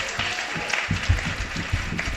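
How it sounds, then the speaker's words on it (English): Audience applause at a people's assembly event on challenging white supremacy, a steady broadband clatter of many hands clapping throughout, fairly close and moderately loud, with no speech. "A round of applause."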